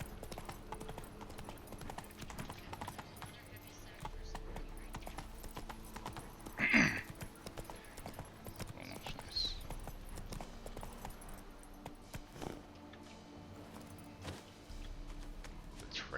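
Hooves of Roach, a horse in a monster-hunting video game, clip-clop at a steady walking pace, fairly quiet under a busy game backdrop, with a louder thump and a whinny-like burst partway through.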